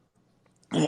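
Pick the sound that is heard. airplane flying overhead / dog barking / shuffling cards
dog barking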